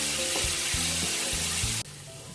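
Ground spice paste sautéing in a hot pan gives a loud, dense, continuous sizzle with a few low clunks of stirring, then drops abruptly to a much quieter fry near the end.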